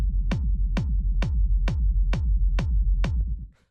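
Rumble kick drum for acid techno, shaped with EQ to cut muddy lows, thumping seven times at a steady pace, each hit a sharp click trailing into a deep boomy rumble, loud and alone.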